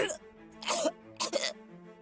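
A woman coughs and gags in the Corpse Factory video game: a few harsh, breathy bursts, one early and two close together later, fairly near with faint murmuring between them.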